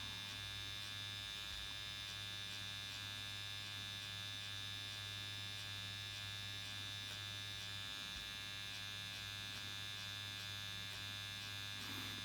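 A powder brow permanent makeup needle machine buzzes in a steady, high whine over a low mains hum. It runs continuously and faintly at close range while the needle touches the skin, with no voices.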